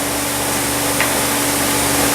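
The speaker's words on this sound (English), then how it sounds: "not spray, but blast them with air all at once" Compressed air blasts steadily at rifle parts and screws hung on hooks. It makes a loud, continuous broadband hiss with no break, heard alone.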